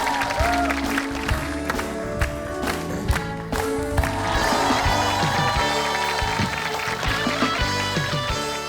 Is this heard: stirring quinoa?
no